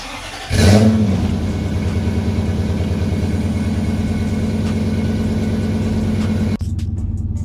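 A Toyota Soarer JDM V8 cranks and fires up, then holds a steady, loud throbbing idle with light revving for several seconds before cutting off abruptly near the end.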